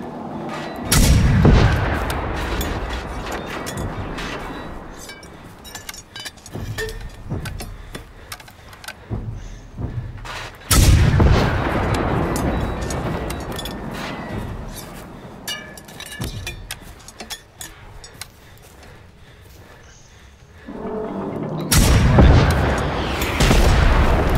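Heavy gunfire and explosive booms from the game Generation Zero, several loud bursts separated by quieter stretches of scattered shots and rumbling.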